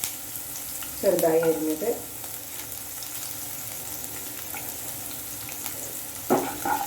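Finely chopped garlic, about ten cloves, and green chillies fry with popped mustard seeds in a pan, a soft steady sizzle running underneath brief bits of talk.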